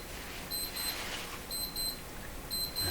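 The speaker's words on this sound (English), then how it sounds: "That's my coffee break warning buzzer to make sure I don't miss my coffee breaks here." An electronic alarm-clock style buzzer serving as a coffee break warning, sounding from a workbench during the checkout of a Mohawk Model 1240 five-tube radio, gives three evenly spaced bursts of rapid high beeps over a steady background hiss.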